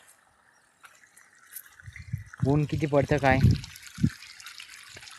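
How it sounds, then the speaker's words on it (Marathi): Water gushes under pressure from a tap fed by an electric pump, a continuous splashing flow that starts quietly and is then partly masked by a person talking. "आता लाईटचं कसं प्रेशरने पाणी मारतं"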